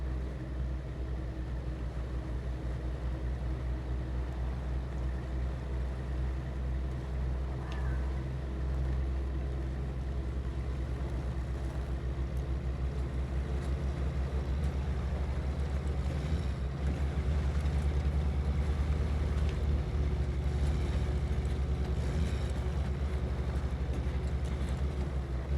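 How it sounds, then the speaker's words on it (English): A 1989 Chevy Blazer truck in the SnowRunner video game spins and struggles in deep snow, heard as a steady, loud, low engine drone with a windy rush that holds unbroken for the whole stretch, with no talking. "in this deep snow, again, we're not cruising through it. We are spinning and we are struggling"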